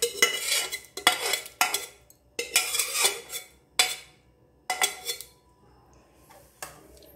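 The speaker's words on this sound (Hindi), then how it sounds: "अब ये सारी लौकी को हम इस कढ़ाई में ट्रांसफ़र कर लेंगे।" Boiled bottle gourd being moved into a metal kadhai, with several bursts of clattering spoon scrapes and metallic clinks against the pan, loud and close with short pauses between them.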